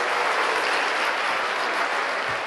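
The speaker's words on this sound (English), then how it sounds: "Give a round of applause, ladies and gentlemen." Steady, dense applause from a school assembly audience, filling the room evenly from start to finish at a constant level with no pauses.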